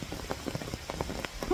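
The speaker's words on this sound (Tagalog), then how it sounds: "Ang lakas ng ulan." Heavy rain patters steadily on a surface close by, with dense irregular drops and no voices.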